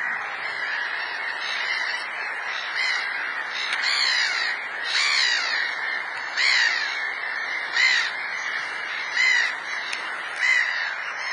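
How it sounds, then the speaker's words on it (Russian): Gulls squawk repeatedly nearby, harsh bursts every second or so rising over a steady bed of distant bird chatter. "Ну, а вот чайки. Те, кто создает здесь больше всего шума."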